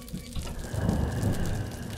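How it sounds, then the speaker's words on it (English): Rain falls in a video game, a soft steady hiss of drops with a low rumble underneath, faint and continuous over a couple of seconds. "Oh my god, it's raining too."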